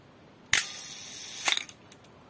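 A Canon AE-1 film camera fires its shutter with a one-second exposure: a sharp mechanical click opens it and a second click about a second later closes it, followed by faint small handling taps in a quiet room.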